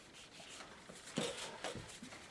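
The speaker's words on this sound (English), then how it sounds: "Just loosening the paint a little bit." Soft, close rubbing of a brush or cloth lifting watercolour paint from paper, with one louder scrubbing stroke midway among faint intermittent strokes.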